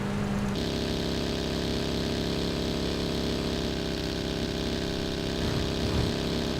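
A vehicle engine drones steadily in PUBG Battlegrounds while driving, a constant mid-pitched hum that stays loud throughout with slight shifts near the end.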